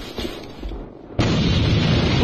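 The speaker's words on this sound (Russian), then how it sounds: "Бросаю гранату!" A grenade going off in the online shooter AVA, with a sudden loud blast that turns into a dense sustained roar, preceded by a brief burst of gameplay noise.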